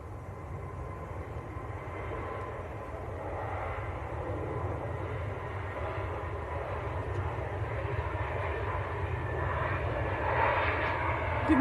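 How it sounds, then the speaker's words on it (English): A Turkish Airlines Airbus A321neo jet roars at an airport, a steady broad engine rumble that swells gradually louder toward the end, with no one speaking. "There we go, Turkish A321 Neo."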